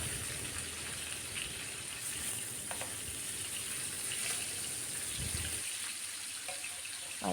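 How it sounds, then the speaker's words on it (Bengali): Pieces of katla fish frying in hot oil in a pan, giving a continuous nearby sizzle with scattered crackles and a few brief clinks and knocks of utensils toward the end. "মাছগুলোকে ভেজে নিচ্ছি।"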